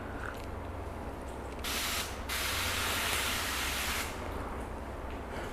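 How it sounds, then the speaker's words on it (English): A garden hose on its mist setting sprays over a car body panel, a soft steady hiss that rises into two louder bursts, the second lasting about two seconds, before falling back to a gentle spray. "So I'm just going to go over the entire panel with just the hose onto the mist function"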